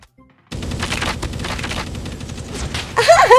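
Rapid automatic gunfire in a shooting video game bursts in after a brief quiet and rattles on continuously, loud and close, with a sharper burst near the end.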